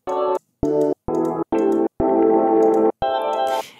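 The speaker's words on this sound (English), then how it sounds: "These atmospheres sound something like this." An ambient sample made with an Avalanchron guitar pedal comes as a series of six gated chord bursts, abruptly starting and stopping, the longest held a moment before a hazy tail fades out.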